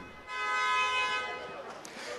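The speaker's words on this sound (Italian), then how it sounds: "lo sentite, tra clacson, bandiere e urla non si sentiva tutto questo casino per le strade di Chieti" Car horns honking in the streets of Chieti during an election-night celebration, a long sustained horn blast rising over crowd noise, with a reporter's voice nearby.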